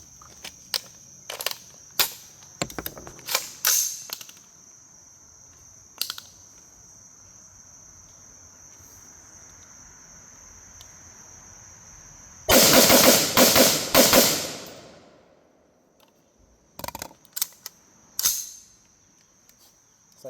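A few rounds fired from an AR-15 rifle, a burst of loud sharp cracks closely packed over a couple of seconds, with scattered nearby clicks and handling noises before and after in an otherwise quiet outdoor setting.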